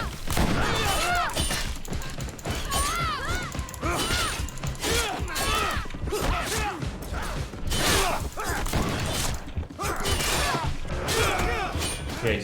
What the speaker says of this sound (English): Try to shoot him.